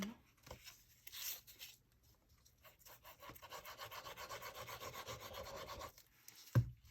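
Acetate sheet folded over the edge of a flower specimen slide for a junk journal, producing soft close rubbing and crinkling scrapes in uneven bursts, with a short sharp tap near the end.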